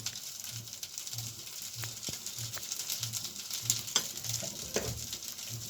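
Salted food frying quietly in a pan is stirred, giving a soft continuous sizzle with steady, evenly spaced scraping strokes and a few light clinks.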